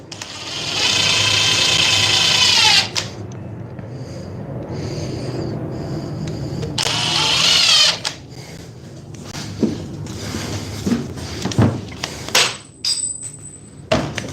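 Flex and Dewalt battery-powered impact drivers driving fasteners into wood, two loud bursts of rapid hammering rattle separated by a pause, followed by scattered clicks, knocks and handling clatter close by.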